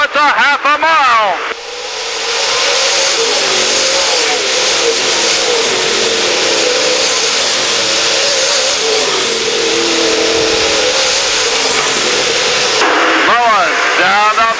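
Race cars at speed on a half-mile track during the final laps, with a loud, steady engine roar sweeping past for most of the stretch and rising whines at the start and end, a commentator talking over it.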